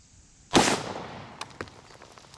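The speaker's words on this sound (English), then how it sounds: "Okay, now first shot, I'm gonna put it right on the target." A single sharp gunshot from a Brenton USA .350 Legend rifle fired at a target, loud and close, its crack decaying into a short echo with faint clicks and small knocks afterward.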